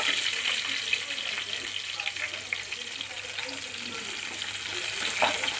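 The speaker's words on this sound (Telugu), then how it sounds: "తర్వాత పచ్చిమిరపకాయలు వేసుకుని వేపుకోవాలి." Green chilies frying in a pan with cashew pieces, a steady broad sizzle and crackle held close throughout, with light stirring scrapes and a few small pops, no voices.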